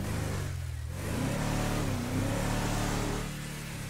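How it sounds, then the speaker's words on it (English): A truck engine in GTA V revs loudly and close, climbing and wavering in pitch through a sustained acceleration, with no talk over it. "Now we get in the truck."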